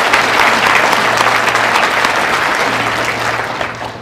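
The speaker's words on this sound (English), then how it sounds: "I'd like to give a round of applause for the two directors over here, Dan West and Brooke" Loud, sustained applause from a luncheon audience, a dense wash of many hands clapping close by that continues for four seconds and tapers slightly near the end, with a low hum underneath.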